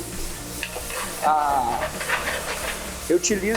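Chicken smoked in a pan over a high flame gives short bursts of sizzling and stirring scrapes, with a voice speaking in between.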